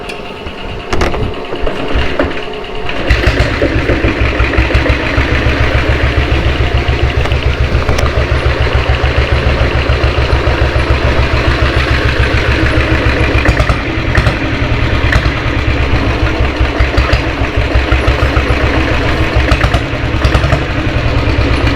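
A diesel Royal Enfield Bullet motorcycle with a restored engine runs at slow speed, a loud, steady low thumping beat that settles in after a rougher start, close by.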